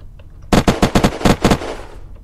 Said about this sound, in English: He's still shooting at me, Will.